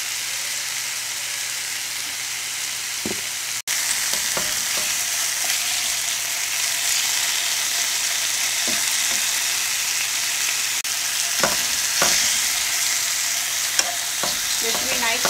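Pork chops seasoned with pepper and pink salt sear in a pan, producing a steady close-up sizzle and crackle with a sharp jolt early on and occasional faint utensil taps.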